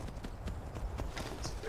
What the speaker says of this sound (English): finally we have a damn horse